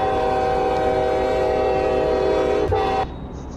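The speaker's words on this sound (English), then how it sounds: "I actually tried to change it, and it was still the horn sound. I mean, the train sound." A Volvo VNL 670 truck in American Truck Simulator blasts a train-style air horn, a loud sustained multi-tone chord lasting about three seconds before cutting off abruptly.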